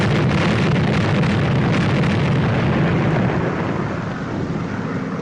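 A test bomb blast at a bombing range produces a loud, sustained roar of broad rumbling noise that holds steady for several seconds before easing slightly, with no voices over it.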